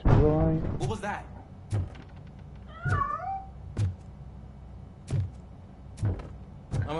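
A cat meows a couple of times in the RoboCop Rogue City video game, clear, nearby wavering cries mixed with sharp regular clicks, while a person talks.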